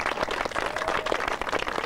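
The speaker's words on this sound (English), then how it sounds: "how about a nice round of applause for the former type." An outdoor audience at the October 2004 dedication ceremony for Avila Landing applauds after a ribbon cutting, a steady, fairly close wash of clapping with no one speaking.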